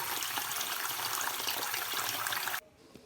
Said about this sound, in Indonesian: Kemudian isikan air hingga ketan putih terendam semuanya.